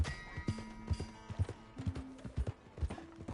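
Horse hooves in Red Dead Redemption 2 clip-clop at a steady walking pace, crisp and close, with a faint tonal hum in the background.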